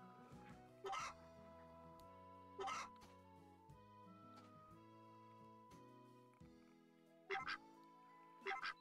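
Ducks in the farming game Story of Seasons: A Wonderful Life give several short, loud quacking bursts, two close together early and two near the end, over steady game music with no talk.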